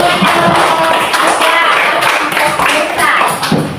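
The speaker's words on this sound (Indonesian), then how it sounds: "Ya, tepuk tangan." Pupils in a classroom clap steadily and loudly for a few seconds, with a dense patter of hands and some voices mixed in underneath.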